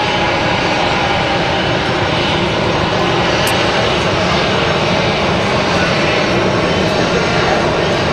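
Jet engines of a Lufthansa airliner at Raleigh-Durham airport give a loud, continuous roar that stays steady throughout.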